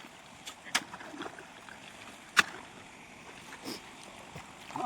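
A faint, continuous wash of irrigation water as a farmer steers its flow across a field, broken by a few sharp knocks and splashes nearby.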